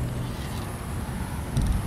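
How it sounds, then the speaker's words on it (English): A 1934 Packard Eight idles and rumbles as it rolls off a lawn over a curb, a steady low engine drone with a brief heavier thump near the end. "we're driving off the lawn here, and there's a big curb now."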